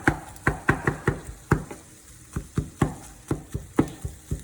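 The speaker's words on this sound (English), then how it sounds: "Okay, so I'm chopping it up, and like I said, cooking it just like I would with ground beef." Plant-based Beyond Beef is chopped and broken up in a pan while cooking, giving a steady series of sharp, close knocks, about two or three a second, with a short pause partway through.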